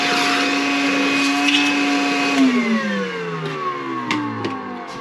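A Makita 18V cordless vacuum, model XCV117, runs steadily at close range with a whining motor tone that dips in pitch partway through as the load changes, loud and continuous with no talking.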